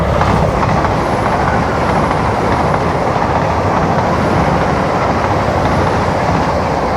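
A train rolls past in a steady loud rumble with broad roar and faint rail clatter, close and continuous for several seconds with no talk.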